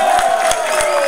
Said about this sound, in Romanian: Vă rugăm din tot sufletul aplauze pentru echipa Brașov TV!